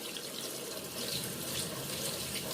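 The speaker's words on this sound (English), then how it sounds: "And then you're just going to rinse it really good." Steady stream of running tap water splashing into a sink as a makeup brush is rinsed, continuous and close throughout.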